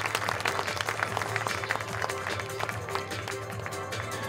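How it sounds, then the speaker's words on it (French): An audience at the Salon de la Croissance Verte 2015 trade fair applauds, dense continuous clapping from a crowd with faint voices mixed underneath. "Vous pouvez les applaudir."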